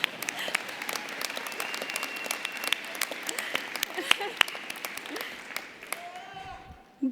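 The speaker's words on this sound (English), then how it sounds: "go ahead, clap." Audience at a university commencement ceremony breaking into sustained applause, a dense steady wash of many hands clapping with sharp individual claps standing out, fading slightly toward the end before a final bump.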